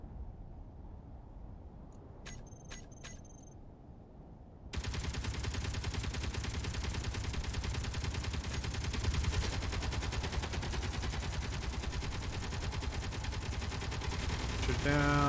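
Automated turrets in the space-building game Underground Alone firing rapid bursts at small grid ships, a dense, continuous rattle of gunfire that starts abruptly after a few sharp shots and keeps going loud and steady.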